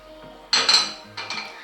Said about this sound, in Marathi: त्यासाठी गॅसवर कढई ठेवा